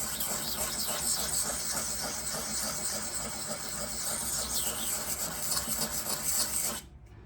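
Blades rubbed together on a coarse sharpening stone give a continuous, close, rhythmic rasping that scrapes back and forth, then stops abruptly near the end.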